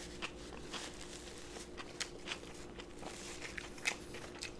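A cheesy elk burger from Fuddruckers is bitten and chewed close to the mic, giving soft wet crunches and mouth sounds repeating irregularly over a quiet background hiss.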